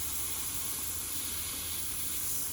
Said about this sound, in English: What's the steam, Leo?